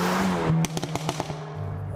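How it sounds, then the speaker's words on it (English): Hyundai i30N exhaust letting out rally pops on the overrun, a quick irregular string of sharp cracks and bangs after the engine note drops, close and punchy, with the engine droning before and after. "the rally pops back there from the exhaust"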